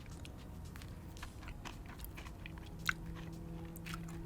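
Someone bites and chews KFC salted egg cereal chicken up close, soft crunching at a quiet level with small crackly bites scattered through, no speech.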